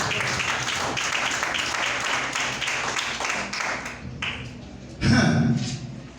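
A church congregation applauds with dense, continuous clapping that fades after about four seconds, followed by a brief loud burst with a voice rising over it.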